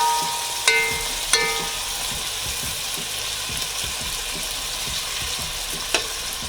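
Saltfish and vegetables sizzle steadily in a hot pan, a constant crackling fry with a few sharp clinks and stirring knocks from a utensil, close and loud without talk.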